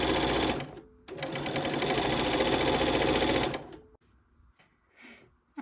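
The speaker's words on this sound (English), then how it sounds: "I'm just going to go straight down and do a straight stitch" A sewing machine with a 5mm stitch plate and a topstitch needle runs a straight stitch in one steady, loud rhythmic burst of about three seconds, then stops, followed by quieter handling noises.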